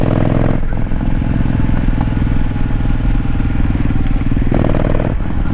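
A VN motorcycle is ridden steadily, its engine a loud, constant droning rumble that runs through the whole stretch with small shifts in pitch, no talking over it.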